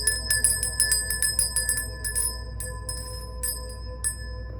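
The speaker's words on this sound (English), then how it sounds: "let's go ahead and begin by ringing the bell and cleansing this space." A small bell is rung in a quick, steady series of bright, ringing strikes that slow to a few spaced final tings, with no one talking.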